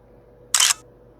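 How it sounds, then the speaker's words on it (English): A single crisp camera shutter click, short and close, in an otherwise quiet room. "I'm going to take a picture of this"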